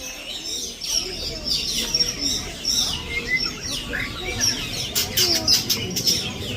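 Birds chirp and tweet throughout the Maharajah Jungle Trek aviary room, a steady layer of high calls with scattered sharper chirps over soft ambient crowd noise and faint voices.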